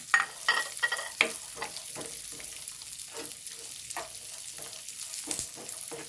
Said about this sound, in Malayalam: വറുത്തെടുക്കാം ഇതിലേക്ക് തന്നെ നമുക്ക് മുന്തിരി ഇട്ട് കൊടുക്കാം